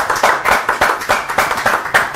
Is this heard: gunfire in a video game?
no